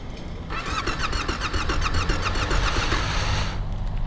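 A motorcycle engine is revved at full throttle with a loud, steady roar for about three seconds, then shut off abruptly, leaving faint background noise.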